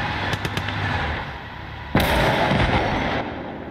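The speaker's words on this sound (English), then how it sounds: "Is the artillery piece firing at that?" Artillery fires in the Eastern Front World War II game Gates of Hell: Ostfront: a few sharp cracks, then one loud booming blast that rumbles and fades over about a second.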